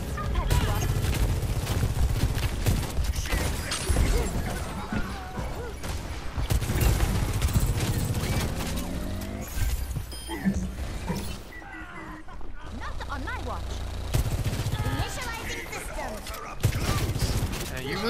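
Rifle fire in the video game Overwatch, dense bursts of rapid gunshots with explosions and game effects that keep going throughout, mixed with a player's voice talking over the action.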